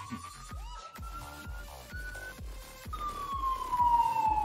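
Police siren wailing at a moderate distance, a rising and falling tone that grows louder toward the end, over a repeated rhythmic thumping.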